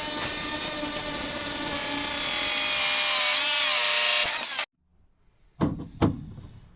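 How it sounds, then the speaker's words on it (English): A chop saw in a workshop whines loudly through a cut for several seconds, then stops abruptly, followed by silence and two sharp knocks of the workpiece being handled. "So we'll cut it on the chop saw"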